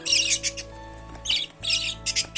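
Pet cockatiel and budgies calling indoors, with repeated bursts of sharp, close squawks and chirps separated by short gaps.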